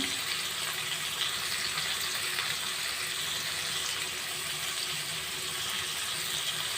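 A small amount of water is poured into a pan of semolina khichdi cooking with tomato and cumin, making a continuous, even rushing flow at moderate level with no voices.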